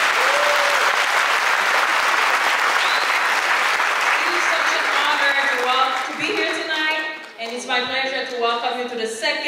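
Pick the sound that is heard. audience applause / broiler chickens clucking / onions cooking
audience applause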